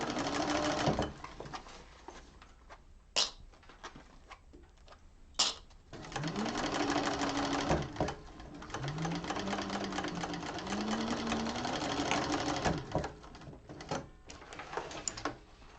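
A sewing machine runs in bursts, stopping and restarting several times as it stitches back and forth over a seam during a sewing class, close and fairly loud, with a voice talking briefly between runs.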